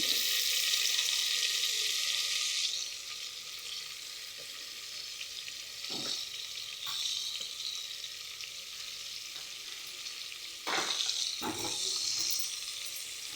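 Mustard seeds sputter and crackle in hot oil, a steady loud sizzle with brief sharper pops and a stir or two, while preparing tomato bath.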